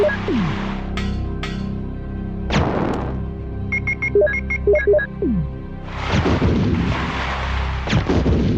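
Gunfire from Leon's weapon in the Resident Evil randomizer Biorand sounds as a few loud, booming shots with echoing tails, spaced several seconds apart, while a short run of electronic game beeps plays in between.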